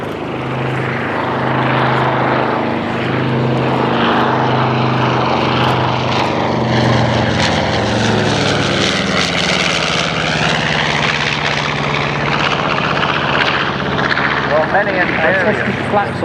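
A Dutch B-25 Mitchell twin-engine bomber roars past at an air show. The propeller drone is loud and steady and rises and falls as the plane sweeps by, while an announcer talks over it.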